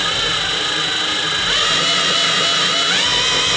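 Power drill with its trigger strapped down, running continuously with a steady high-pitched motor whine that rises in pitch slightly as the speed shifts.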